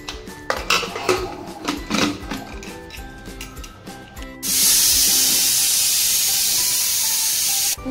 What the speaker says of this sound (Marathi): आता याच्या 3 शिट्ट्या घेऊया।